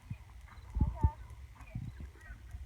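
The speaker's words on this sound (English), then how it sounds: "let her canter and do it at the canter" Horse hooves thudding in an uneven cantering rhythm, soft and fairly close, while a person talks over the footfalls.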